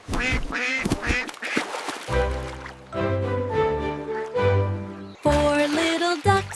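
A voice imitates a duck, singing a string of quick quacks over a musical backing with a few pauses between phrases.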